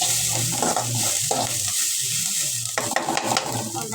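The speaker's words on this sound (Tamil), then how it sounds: "பெருங்காயத்தூள் நல்லா வதங்கி வச்சுக்கேன்" Asafoetida powder sautés in a hot pan, giving a loud continuous sizzle with bursts of stirring and scraping near the end, close up and without voices.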